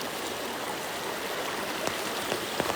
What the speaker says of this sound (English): The river's flowing a little higher